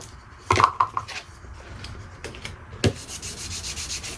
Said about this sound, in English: I'll start sanding another one